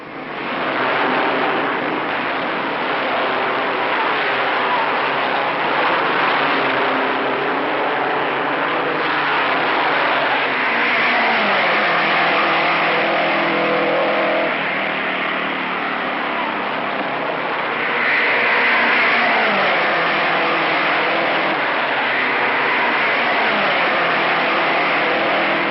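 1956 Formula 1 race cars accelerate away together at the green flag. A dense, continuous engine roar stays loud and wind-buffeted throughout, with no audible talk.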